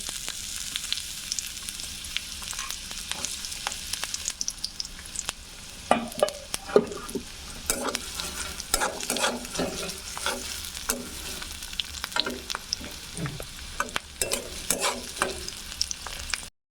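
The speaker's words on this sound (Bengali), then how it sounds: "পেঁয়াজ কুচি দিয়ে দিব।" Chopped onion fries in hot oil in a wok, a soft continuous sizzle broken by frequent scraping and clacking of a spatula as it is stirred, close and alone.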